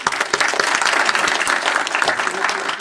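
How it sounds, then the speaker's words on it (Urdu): Audience applause at a monthly Urdu poetry gathering, a dense, steady patter of many hands clapping close by for the whole stretch, with no voices over it. "تو میں آپ کے لیے سب سے پہلے تالی بجاتا ہوں"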